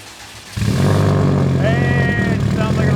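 A car engine fires up abruptly and settles into a loud, rough, throaty idle with a deep steady rumble, heard up close, with people talking over it.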